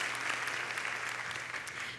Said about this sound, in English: I think all of you guys should give yourselves a round of applause as well